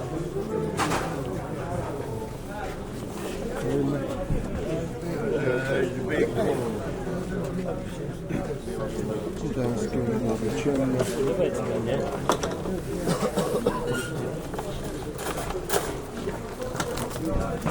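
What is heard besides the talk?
pigeons cooing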